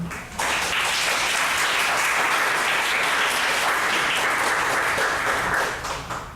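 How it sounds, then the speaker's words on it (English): An audience applauds a panel of writers at a talk, a dense, steady burst of clapping that starts abruptly, holds evenly for several seconds and then tapers off. "If we can get applause for the panel."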